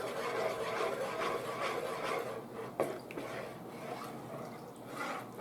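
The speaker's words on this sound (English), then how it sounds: "Stir just a little bit more." Melted casserole base for a turkey and drop biscuit casserole being stirred in a pot, with soft repeated scraping and wet swishing strokes at close range, quiet, with a sharper knock midway.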